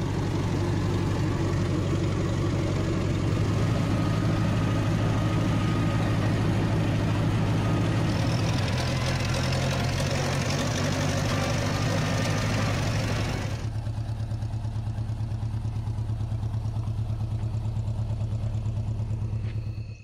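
A tractor engine runs steadily at a low idle out in the bush at a cabin build site, a continuous rumbling drone that stays fairly constant for twenty seconds, with no voices.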